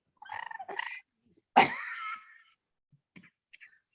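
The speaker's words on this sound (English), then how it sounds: "I started to cough" A single sharp cough near the mic, preceded by a couple of short throaty vocal sounds, then quiet with faint small noises.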